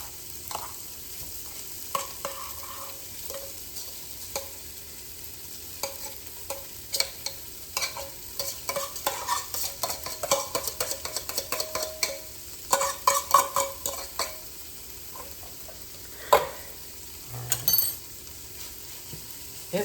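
Claw crab meat warming in a hot pan for a seafood salad, a soft steady sizzle with repeated close scrapes and taps of a utensil stirring it, quiet and without speech.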